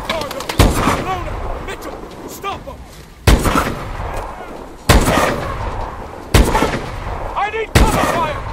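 Heavy gunfire bursts from the video game Call of Duty: Advanced Warfare: sharp loud volleys about every second and a half, each booming then rattling off, with shouted voices underneath.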